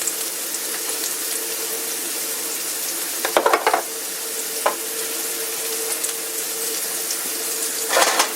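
Butter sizzles steadily in a cast iron pan, a constant close hiss with a few brief scraping clatters partway through and near the end, no voices.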